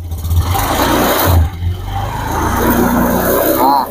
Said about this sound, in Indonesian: Waktu kita gas, kita hidupin dulu. Nah, kita buktikan nyendat-nyendat